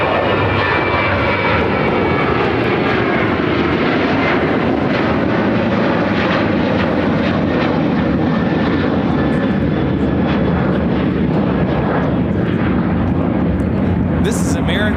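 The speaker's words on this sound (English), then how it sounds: "This is American Airlines 944 taking off to Bozeman on the 737-800." An American Airlines Boeing 737-800 takes off from Chicago O'Hare with a loud, sustained, roaring jet engine rumble that stays steady across the whole stretch; faint voices sit beneath the engine noise.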